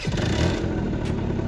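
A Peugeot Vivacity scooter engine running after starting, a steady close mechanical drone with a light clattering rattle, no speech.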